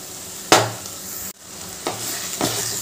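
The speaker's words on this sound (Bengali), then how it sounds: "এবার এটা ভালো করে কষিয়ে নেব।" A spoon scrapes and stirs spices with poppy seed and cashew paste in a pan for cauliflower korma, making a steady close sizzle with a few distinct scraping strokes and no talk.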